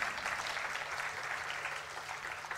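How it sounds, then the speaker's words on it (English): A crowd claps steadily and fairly loudly throughout at an art competition award ceremony, a continuous wash of applause with no pauses. "Can we have a good round of applause"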